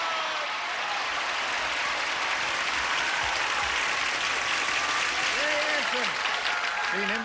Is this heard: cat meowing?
no